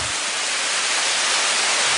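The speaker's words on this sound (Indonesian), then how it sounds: "air terjun yang ada di tempat ini terlihat seperti benang-benang kelambu atau tirai yang suaranya lebih halus dibandingkan dengan air terjun kebanyakan" Benang Kelambu waterfall in Aik Berik, Lombok, its thin curtain-like streams falling with a softer sound than most falls: a steady, even hiss of water throughout, close and unbroken, with no voices.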